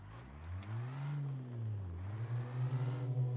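Simulated truck engine in BeamNG with an Automation-built vehicle hauling about 3 tons on a short gear ratio, a low droning hum that rises and dips in pitch as it revs through gears, steady and fairly close with no talking.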